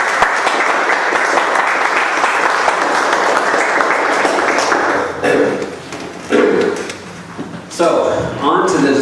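Audience applause welcomes panelists at a meeting, a dense steady clapping that runs loud for about five seconds, then breaks into shorter bursts that fade and swell again.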